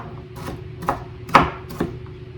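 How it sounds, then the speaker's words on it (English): Potatoes being chopped finely with a knife on a board for stuffed cabbage, four sharp separate knocks spaced about half a second apart over a soft background hum, close and clear, no talking. "I'm just going to chop them up nice and finely."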